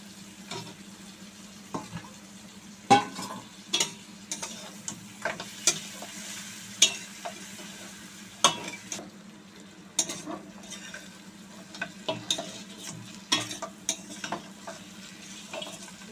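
Catla fish heads being stirred and fried with chilli powder and spices in a pan, a steady low sizzle under repeated sharp scrapes and clinks of a spatula against the pan, close and moderately loud.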